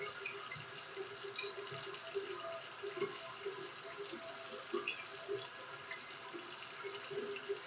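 Steady stream of water running from a tap into a sink during handwashing, continuous and even throughout with faint splashes of hands under the flow.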